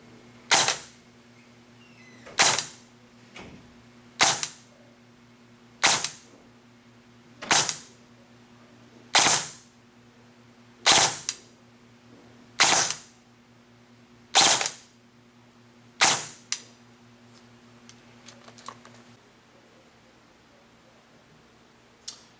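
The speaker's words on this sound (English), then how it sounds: "just for fun, I'm gonna chrono my gun too" A custom-built clone airsoft AEG fires single shots through a chronograph, about ten sharp, evenly spaced cracks over a steady electrical hum, close and loud, followed by quieter handling clicks.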